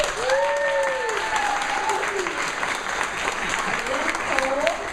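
Applause from a conference audience during introductions at an annual congress in Los Angeles, a steady dense wash of clapping that runs the whole time, with a voice speaking over it.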